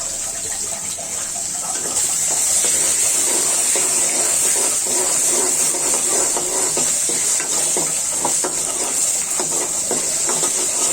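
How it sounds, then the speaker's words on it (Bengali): Dried loitta fish fries in oil in a pan, giving a steady, dense sizzle with faint stirring scrapes that runs evenly and fairly loud throughout, with no talking. "এভাবে একটু তেলে ভেজে নেবেন শুটকি"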